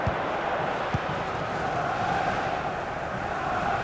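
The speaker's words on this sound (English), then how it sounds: "just listen to this crowd" Stadium crowd noise in the FC Mobile football game, a broad, continuous roar of fans filling the background at a steady level, with a couple of faint thumps.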